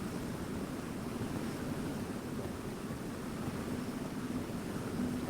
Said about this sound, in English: But it's a freaking ocean waterfall.